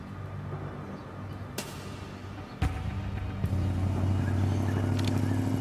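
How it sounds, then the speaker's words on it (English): A white Holden ute runs at low speed some distance away, its engine a faint, steady rumble broken by a single sharp knock partway through, with a slightly louder drone afterwards. "It's a white Holden ute."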